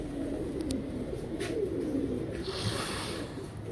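High-flying Saith Walay Teddy pigeons cooing close by, a run of soft, low, rolling coos over faint background noise, with a few brief higher chirps.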